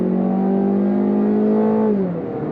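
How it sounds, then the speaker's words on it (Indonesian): A Mazda 2 hatchback engine revving in sport mode, a loud close steady drone that climbs in pitch for nearly two seconds before dropping off as the revs fall, with no talking. "Nah pindah ke sport, RPM naik,"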